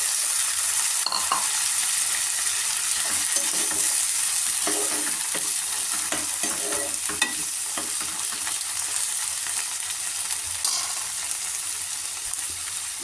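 Boiled minced mutton frying with onions in a pan, a continuous close sizzle overlaid by scattered scraping and tapping strokes as the spoon stirs the mixture, no voices.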